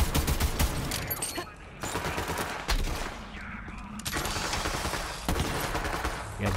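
Continuous gunfire in the Borderlands 3 video game, dense overlapping shots and bursts forming a loud, busy battle din throughout, with some game sounds mixed in.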